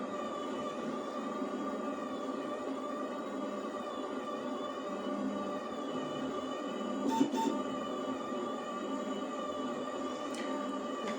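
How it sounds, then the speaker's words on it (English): A Two Trees Sapphire Pro 3D printer runs a print job, giving a steady, even mechanical hum with whining motor tones throughout and a brief louder burst near the end. "Okay, the printing is started."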